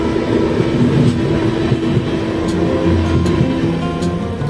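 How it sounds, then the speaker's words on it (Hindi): Lucknow Chandigarh Express pulling away from Haldaur station, a steady loud low rumble of rolling coaches with faint periodic rail clicks throughout. "इधर लखनऊ चंडीगढ़ एक्सप्रेस ट्रेन को डिपार्चर मिल चुका है"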